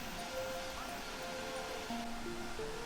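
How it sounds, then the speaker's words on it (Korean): A small waterfall pours into a valley stream, making a steady, even rush of water with faint thin bird-like tones above it. "시원하게 쏟아지는 폭포 소리를 들을 수 있어서 좋아요"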